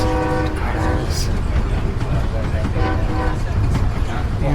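An Amtrak Borealis passenger train on its inaugural run near Winona, Minnesota, sounds its horn in repeated trills while rumbling along, steady train noise throughout with brief horn bursts cutting through.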